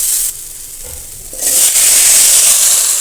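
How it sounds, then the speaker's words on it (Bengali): Pumpkin green stalks and potato dropping into hot frying spices, a quieter pause then a loud, sharp sizzle and hiss that swells and holds steady, close up. "এবার আমি কুমড়ো শাকের ডাঁটা আলুটা অ্যাড করে দিয়ে দেবো।"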